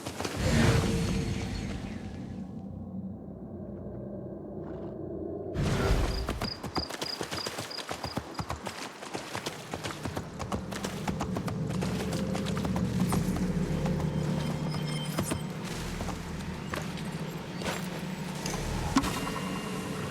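Rhythmic horse hooves clip-clop steadily on a road in a video game set in an Abbasid-era world near Seleucia on the Tigris, close and continuous for most of the stretch after a brief quieter opening.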